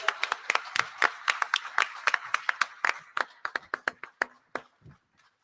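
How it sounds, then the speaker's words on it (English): Audience at a gubernatorial candidate forum on economic empowerment clapping to greet a university president at the podium; sparse, distinct handclaps from a small crowd, rhythmic and fairly close, thinning out toward the end. "Won't you greet him with a round of applause?"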